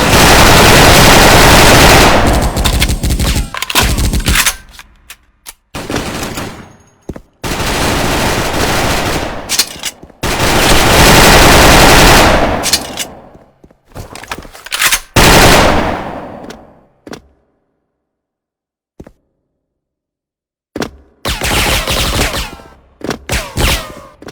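Rapid bursts of automatic gunfire in a shooting video game, several loud sustained volleys separated by short pauses and brief silences.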